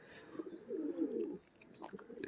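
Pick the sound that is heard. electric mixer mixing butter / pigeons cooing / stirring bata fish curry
pigeons cooing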